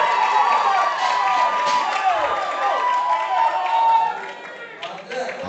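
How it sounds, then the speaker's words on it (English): Supporters in the crowd at a powerlifting championship cheering and shouting for a Dominican Republic lifter, a lively burst of yells and whoops in a hall, with an announcer talking over it. "Hear the supporters in the crowd giving a shout out to him"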